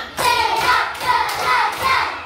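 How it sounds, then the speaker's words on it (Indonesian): An elementary school class claps together in counted rhythmic bursts, loud and close, with several distinct rounds of clapping. "tepuk 1, tepuk 2, tepuk 3, tepuk 4, tepuk 5"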